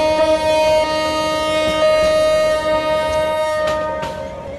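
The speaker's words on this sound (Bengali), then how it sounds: "আন্তনগর চাঁদপুর এক্সপ্রেস ট্রেন প্রবেশ করছে এখন চট্টগ্রাম স্টেশনে।" Simulated Chandpur intercity express train in a train simulator game, pulling into Chattogram station, with a steady tonal engine drone and layered harmonic hum running throughout, close and fairly loud, fading slightly near the end.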